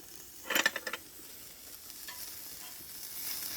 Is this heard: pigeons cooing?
no